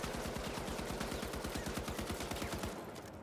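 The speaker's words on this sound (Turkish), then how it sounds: "Bakın 70 mermiyi harcıyorum" An M60 machine gun fires in the video game The Finals, a rapid, regular burst of loud shots sustained for several seconds before cutting off abruptly near the end.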